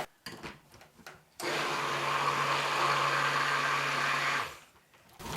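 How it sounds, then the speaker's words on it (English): A stick blender whirs steadily through soap batter for about three seconds, loud and close, starting abruptly after a few clicks and cutting off cleanly, with faint handling noises before and after. "with the stick blender, just to make sure it's all incorporated"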